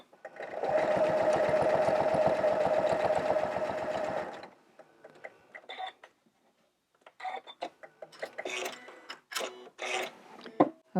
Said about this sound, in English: so I've got one line of ditch quilting done